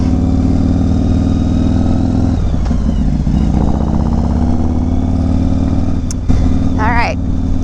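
A big orange-and-black Harley-Davidson Fat Bob with a slightly stiff clutch idles loudly and steadily up close, then is briefly revved, while someone talks over the engine.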